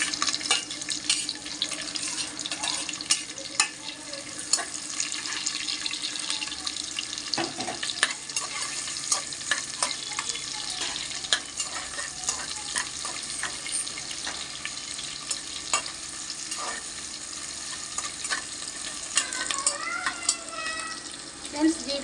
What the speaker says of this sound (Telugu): ఫ్రెండ్స్ ఉల్లిపాయలు వేస్తున్నాను.